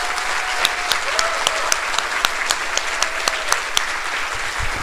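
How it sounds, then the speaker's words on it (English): Audience at a school band concert for 5th to 12th grade students clapping steadily, a dense even applause with a few sharper individual claps standing out, fading slightly at the close. "how about one more round of applause for these students"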